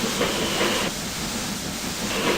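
A steam locomotive in the Trainz railway simulator game gives a dense, loud hiss with a rolling, pulsing chuff, heard alone and continuously throughout.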